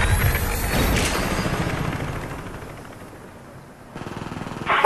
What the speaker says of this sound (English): Sentry gun ready for direction.